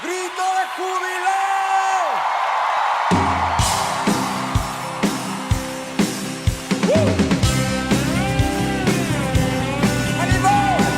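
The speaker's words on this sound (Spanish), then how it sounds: "¡Grito de júbilo!" A church congregation breaks into a loud shout of joy, a dense crowd roar of yells and whoops with a voice rising over it, then continuing cheering mixed with music.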